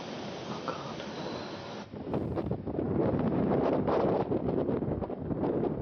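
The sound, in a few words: wind blowing outside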